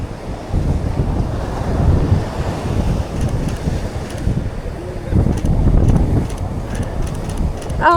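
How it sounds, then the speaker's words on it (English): Ocean surf rolls and crashes onto the shore on a very windy day, a continuous loud roar of breaking waves buffeted by heavy wind noise throughout. "Oh my gosh, with the waves."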